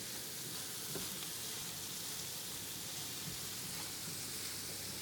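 Cajun-spiced food fries in a pan with a steady, even sizzle like light rain, continuous and moderately close throughout with no talking.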